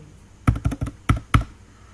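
Five sharp, close keystrokes on a computer keyboard in a quick, uneven burst, standing out against a quiet room.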